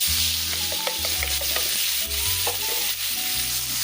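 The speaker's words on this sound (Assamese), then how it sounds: "সেইখিনি কেঁচা কৰি তেওঁলোকে ভাজি ল'ম।" Sizzling of chopped onions frying in oil with scraping stirring strokes, close and continuous, with no talking.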